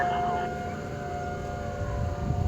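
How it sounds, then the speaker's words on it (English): Tornado warning sirens wailing across Louisville and Bellevue, a steady sustained tone heard from a distance under rumbling wind and background noise. "I've just refound the Louisville and Bellevue sirens."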